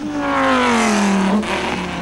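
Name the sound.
race cars on track at 24 Hours of Spa 2001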